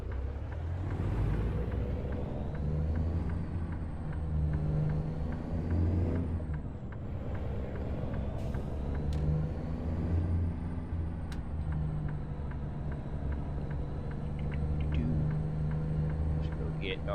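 A diesel International truck engine in American Truck Simulator drones at a steady, loud low rumble while driving, with occasional air-brake hisses and a person talking over it throughout.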